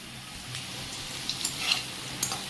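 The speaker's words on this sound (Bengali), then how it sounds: "আলুগুলো আমার লাল করে ভাজা হয়ে গেছে," Potatoes frying in oil, a brief, moderate sizzling hiss with scattered crackling pops.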